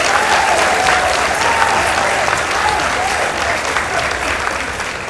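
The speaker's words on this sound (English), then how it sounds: "Let's give them a round of applause." Sustained audience applause fills a school debate hall after a results announcement, steady and loud throughout without pause, with no one speaking over it.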